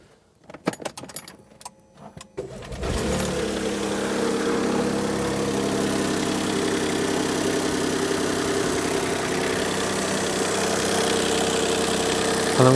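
A Smart ForTwo with a freshly cleaned engine bay: keys jangle in the ignition, the small engine cranks and catches, then settles into a steady, close idle with a slight ticking knock.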